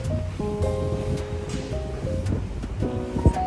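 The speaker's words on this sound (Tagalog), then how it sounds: "Grabe ang hangin. Super." Strong wind from a sandstorm on Yas Island, Abu Dhabi, roars steadily in a continuous rush with gusty buffeting against the microphone, and no voices over it.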